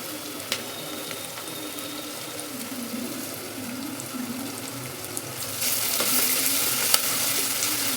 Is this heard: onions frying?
yes